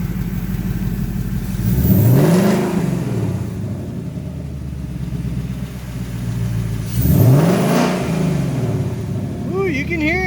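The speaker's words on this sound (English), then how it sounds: "we'll give her a couple revs and check it out." A 2019 Mustang GT V8 fitted with an Airaid cold air intake revs twice from idle, each sharp rise and fall loud and close, with voices talking over the idle at the end.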